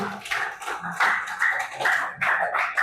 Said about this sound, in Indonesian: Kasih tepuk tangan buat Gavin.